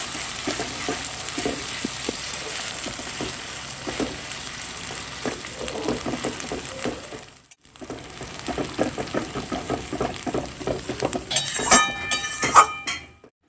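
Spatula stirring coriander leaf paste as it fries in a pan for pickle, with steady scraping, clinking and soft sizzling, a brief pause midway, then brighter metallic clinks near the end.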